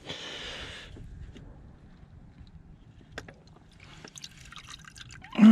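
Fluid draining from a Citroen C4 Grand Picasso during a service, a brief splashy trickle followed by scattered drips and small knocks in a quiet garage, with a sharper clatter at the very end.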